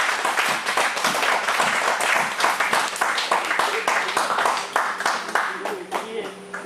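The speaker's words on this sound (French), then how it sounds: "Si tu es content, acclame très fort le Seigneur Jésus." A church congregation applauds for Jesus, with dense rapid clapping and cheering voices filling the room for several seconds, sustained and fairly loud.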